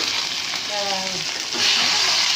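Onion and tomato frying in oil in a pan for masala puri gravy: a steady, fairly loud sizzle runs throughout, briefly joined by a short voiced sound, with the hiss swelling brighter near the end.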